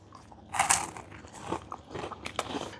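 Teeth bite into a crunchy peanut snack with a cream and caramel filling, giving a sharp close crunch followed by several smaller crackly chews, quiet and without talk.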